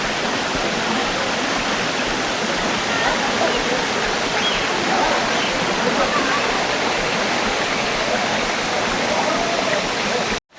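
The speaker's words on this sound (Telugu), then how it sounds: "మీరు చూడొచ్చు వాటర్ ఫాల్ చాలా హైట్ ఉంటుంది" Tall waterfall in Araku Valley roars as a steady, loud, broadband rush of falling water that continues unchanged and unbroken throughout.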